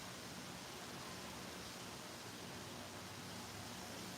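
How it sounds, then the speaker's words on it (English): Water runs steadily from the drain tube of a 2025 Toyota Tacoma, a constant soft hiss-like trickle with no clear separate drops, faint and even throughout. "It continuously drips, so even just kind of sitting here."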